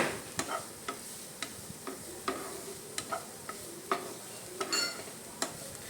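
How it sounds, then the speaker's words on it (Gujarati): A utensil stirs onion and cabbage into noodles in a pan, giving repeated sharp scraping clicks in an irregular rhythm over a faint steady sizzle, close and fairly quiet, with no talking. "હવે આપણે એમાં એડ કરીશું ડુંગળી અને કોબીજ. પ્રોપર મિક્સ કરી નાખીશું આપણે."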